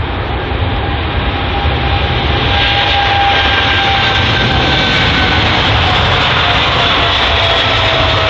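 A Qatar Boeing 777 jet airliner departs London Heathrow, its engines a loud, sustained roar with broad rumble and faint whining tones, steady throughout with no speech.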